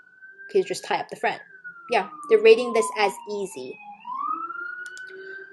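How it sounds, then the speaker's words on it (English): An ambulance siren passes outside, a faint wailing tone that slides down and then rises again beneath close indoor conversation. "That's the ambulance."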